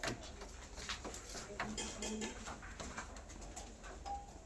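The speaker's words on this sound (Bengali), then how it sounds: "আমরা কালো সবুজ পায়রা কালো সবুজ ধাড়ি পায়রা" Black-green adult pigeons coo softly and repeatedly at close range, low murmuring calls mixed with faint rustling and light handling noises in a quiet setting.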